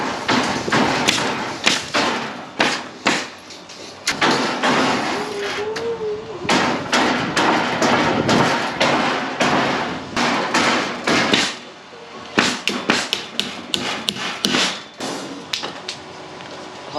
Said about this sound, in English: I still just love doing this with a hammer and nail